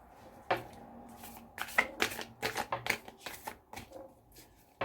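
Tarot cards riffle and snap in a quick series of crisp bursts, close by and fairly loud, with short pauses between shuffles.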